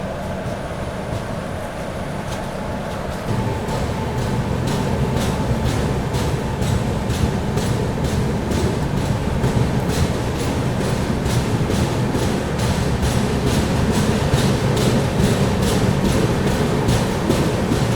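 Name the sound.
express train running on rails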